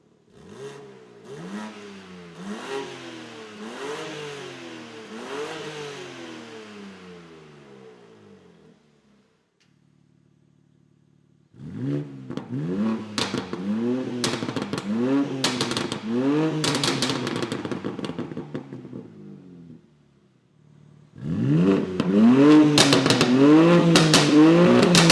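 BMW fitted with a dAHLer exhaust, valves locked fully open, revs in three separate bursts, each made of repeated rising and falling blips that get louder and harsher, with short quiet gaps between bursts.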